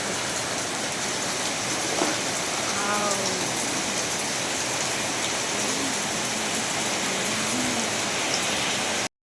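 Heavy rain pours down in a steady, dense hiss that stays constant throughout, with a few faint voices far in the background.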